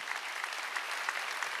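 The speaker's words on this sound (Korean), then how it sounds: "박수 좀 쳐줘요." A church congregation applauds throughout, a dense even patter of many hands at moderate distance with no talk over it.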